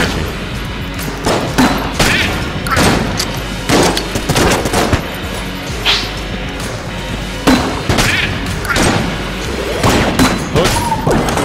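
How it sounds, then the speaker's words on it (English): Enemies in the video game Enter the Gungeon keep firing in dense, rapid volleys of punchy gunshots with thuds and crashes mixed in, loud and continuous across the whole stretch. "They're always shooting at you."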